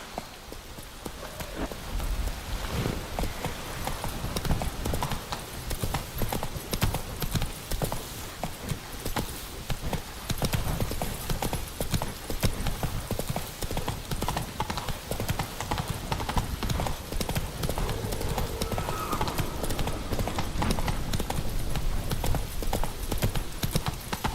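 A horse gallops in The Witcher 3: The Wild Hunt, with steady, rapid clip-clop hoofbeats running the whole time over a wash of rain-like ambience.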